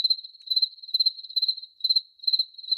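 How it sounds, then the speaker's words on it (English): Crickets chirp in steady pulsing bursts, a clear, continuous insect trill heard alone with no voices, used as a comic silence sound effect. "Crickets."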